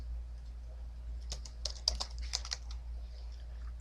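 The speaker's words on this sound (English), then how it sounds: "Oops, trying to type too fast." Fast typing on a computer keyboard, a quick irregular burst of crisp key clicks with a low steady hum beneath, fading to a few scattered taps.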